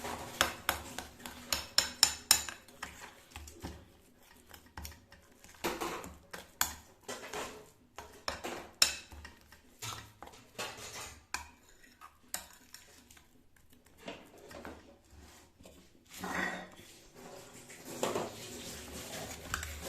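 Spice masala is mixed into fish in a bowl, giving irregular clinks and taps of a utensil against the dish, close and fairly quiet, with scattered pauses between bursts.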